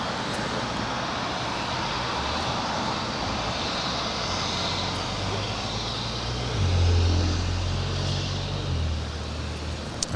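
An American Airlines Airbus A319 airliner rumbles at Los Angeles International Airport, a broad steady jet roar with the engine drone swelling toward the end.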